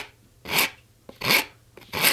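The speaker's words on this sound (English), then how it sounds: "And I'm using a Japanese saw file, which is a very nice tool." A Japanese saw file rasps against a wooden guitar peghead in three slow, even strokes, each a bright, gritty scrape with brief pauses between. It is close and clear with no talking.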